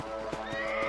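A horse in the video game Red Dead Redemption gives a short, close, clear whinny lasting about a second.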